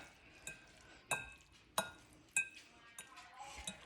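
Veggie pasta with cabbage being stirred in a pan, with a utensil clinking against it in several sharp taps at a steady rhythm over a faint sizzle, close by.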